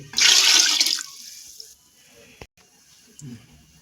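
A short burst of boiled water poured into a pot of oil-free chicken curry splashes loudly for about a second, then fades into quiet with a single sharp knock.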